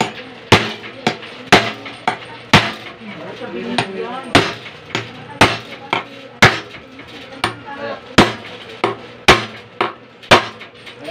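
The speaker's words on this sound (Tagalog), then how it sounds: "Pupukpukin natin ang martilyo yan." Steady hammer blows on metal bolts while fitting the base of a Siruba edging machine, about a dozen sharp, loud strikes at a regular rhythm with faint background noise between them.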